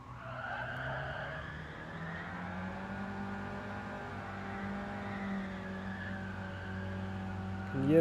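Racing-game car spinning its wheels out of a corner, a sustained engine whine and tyre squeal with rising and falling pitch, steady and fairly loud, with a driver talking over it.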